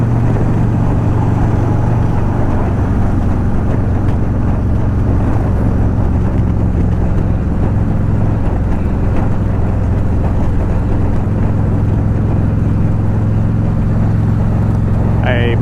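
Trucks passing on a highway mountain pass, heard as a continuous loud low road rumble and engine drone from inside a moving vehicle, steady throughout with no talk.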